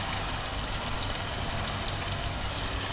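Food shallow frying in hot oil, a dense continuous crackle and sizzle with scattered pops, steady and close with no voices.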